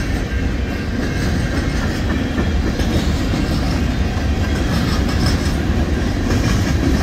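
Freight train with Wisconsin Central boxcars rolls steadily past at close range, a continuous loud rumble with faint clickety-clack of wheels on rail joints throughout, no voices.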